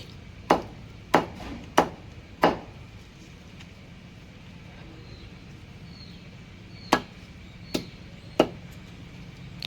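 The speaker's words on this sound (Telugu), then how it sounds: "చూడండి ఎంత ఈజీగా కొట్టేస్తున్నారో కాయ." Raw mangoes are chopped into pieces for avakaya pickle, with sharp cleaver-like chops landing in two bursts: four quick strikes, a pause, then three more spaced blows. The strikes are close and crisp over a low background hum.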